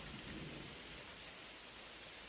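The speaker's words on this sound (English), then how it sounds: "Then the rain begins." Steady rain pours down, a dense, even wash of drops with a faint low rumble like distant thunder beneath, loud and continuous throughout without any voices.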